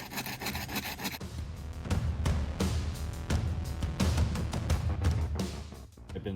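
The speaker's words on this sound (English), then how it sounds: "I've been sanding at this one for about an hour" A brake caliper sanded by hand with an 80 grit sandpaper block, a steady loud rasping scrape in rapid back-and-forth strokes, close up and continuous.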